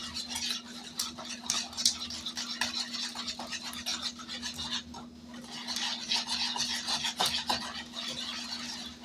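Banana bread batter being mixed by hand in a bowl, a steady scraping and stirring rasp with rhythmic strokes throughout, close and moderately loud, with no talking.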